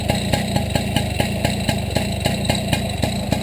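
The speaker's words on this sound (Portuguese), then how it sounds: "só o barulhinho do motorzinho funcionando" A small motorcycle engine idles steadily up close, its firing pulses loud, even and regular, with the clutch making no noise and nobody speaking.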